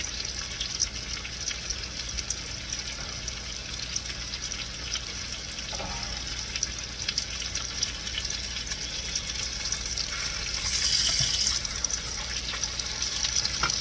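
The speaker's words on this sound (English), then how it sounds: "Just going to give that a good sear." Pork chops for brown sugar pork chops sear in a pan on the highest heat, making a steady, moderate sizzle that runs without break, with a faint clink near the middle and a brief louder hiss near the end.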